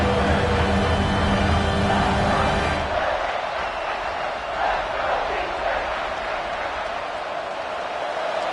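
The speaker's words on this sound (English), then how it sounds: "the crowd coming to life here, trying to help this defense down in the red zone" A stadium crowd in a college football video game roars steadily under a commentator's voice, a dense, continuous wash of cheering that builds as the defense holds in the red zone.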